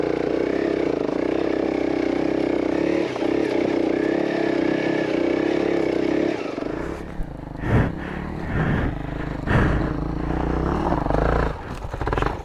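A Honda CRF300L dual-sport motorcycle runs steadily and loudly up close on a thick forest trail, then the engine is cut about halfway through, leaving scattered knocks, clatter and rustling.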